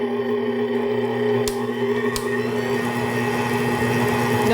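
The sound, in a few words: VIVOHOME stand mixer kneading bread dough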